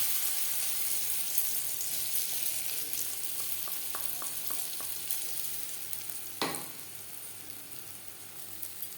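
Ground moong dal paste fries in a little mustard oil over low flame, giving a close, steady hiss that slowly fades. A spoon clinks against the pan a few times, followed by one sharper scrape, with no talking.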